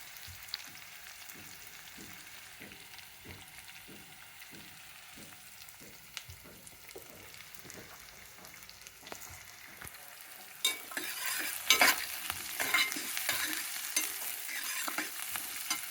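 Onions frying in a pan give a quiet, steady sizzle, with a spoon scraping and stirring in a regular rhythm before the sizzling swells louder and brighter toward the end.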